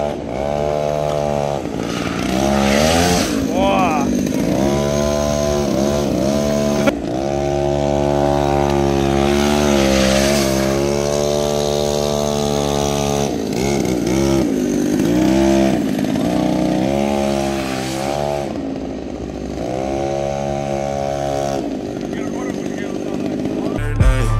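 A car drifting at the 2017 Murska Sobota auto show, its engine screaming loud and continuous with wavering, rising and falling pitch as revs swing through each slide, filling nearly the whole stretch.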